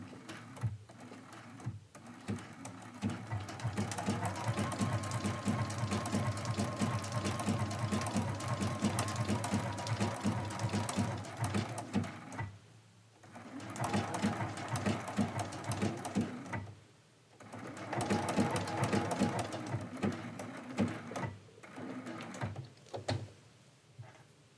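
Home sewing machine stitching quilt pieces for a medallion quilt, running in long steady whirring bursts with brief pauses between seams, close and clear, without speech.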